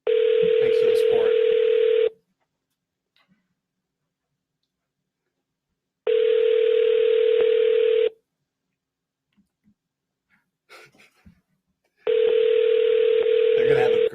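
A telephone call plays out as three long ringback tones of about two seconds each, evenly spaced by four-second silences, loud and steady, with brief faint talk in the gaps.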